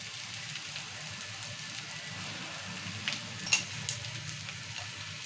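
Onions sizzling with chili powder in a pan for a Telugu egg and chana dal curry, a steady soft frying hiss with a few brief sharper crackles and stirring sounds near the end, no talk.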